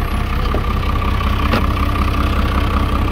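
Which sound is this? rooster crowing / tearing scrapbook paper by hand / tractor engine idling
tractor engine idling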